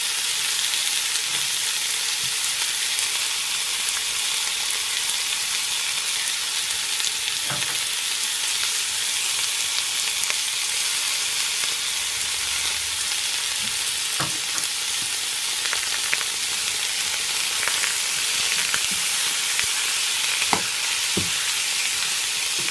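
Shrimp for Jamaican pepper shrimp fry in a pan over a medium stove, giving a loud, continuous hiss and sizzle broken by occasional scraping clicks of stirring, close up and without speech.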